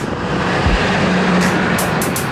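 Car approaching a group of cyclists from behind as they ride up a hill, a steady loud engine and tire rumble building with wind noise throughout.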